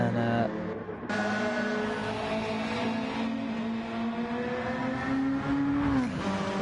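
Several Gr.3 race cars in Gran Turismo 7 pull out of the pit lane at Trial Mountain, a steady layered engine drone with a revving whine that climbs then drops near the end, loud and continuous with no talk.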